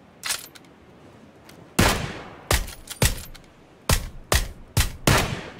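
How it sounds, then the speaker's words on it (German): Several sharp gunshots in PUBG fire in irregular bursts, loud and close, with short gaps between them and no talking. "Schieß auf Motorrad, damit es explodiert."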